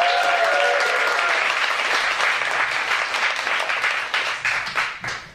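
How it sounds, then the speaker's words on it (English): Audience applause at a stand-up comedy class graduation showcase: a dense burst of clapping from a small crowd that slowly thins and fades out over several seconds. "Please clap real loud for Bao Dong."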